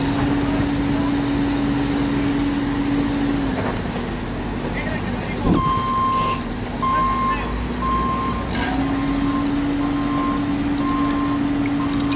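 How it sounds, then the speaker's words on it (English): An excavator engine drones steadily at close range while raising a flip axle, its tone dipping and rising in pitch, with a repeating reversing beep nearby and people talking over it. "they're going to raise the flip axle"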